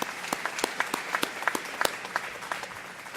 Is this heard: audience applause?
yes